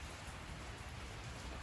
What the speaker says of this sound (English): And it's still raining outside.